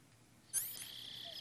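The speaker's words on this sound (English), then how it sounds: "Oh, a frog." A lone frog in Metal Gear Solid 3 gives a single short croak, faint and close, set against quiet jungle ambience.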